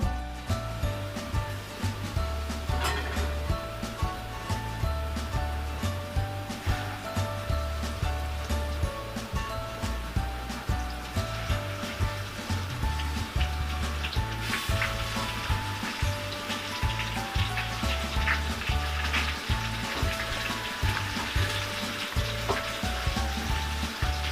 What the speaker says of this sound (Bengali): চিকেনগুলোকে খুব ভালোভাবে হাই ফ্লেমে আমরা ভুনে নেব।